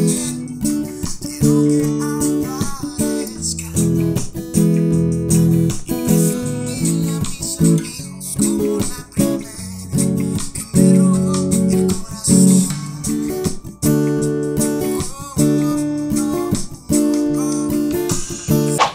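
Acoustic guitar strums the pre-chorus chords of a song in a steady, busy rhythmic pattern, loud and close, continuous for the whole stretch with no talking.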